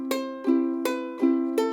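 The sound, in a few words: ukulele pluck strum melody line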